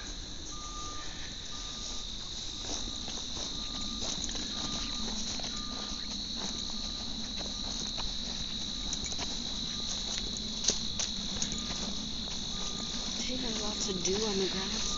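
Crickets chirp in a steady, shrill chorus along a path at a Manitoba homestead near Wawanesa, joined by faint repeating beeps and occasional soft footsteps on the trail.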